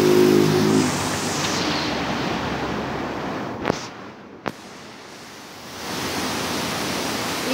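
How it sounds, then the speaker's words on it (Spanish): Swollen Yanuncay river in Cuenca, Ecuador, rushing as a broad, steady roar of water that dips quieter midway, broken by two sharp brief bumps, then swells back up, with no voices. "aquí se puede apreciar mejor el río, cómo viene con tanta intensidad"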